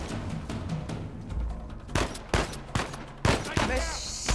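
AK rifle gunfire in Uncharted 4, rapid bursts of loud close shots coming in separate volleys with short gaps between them, over faint game background.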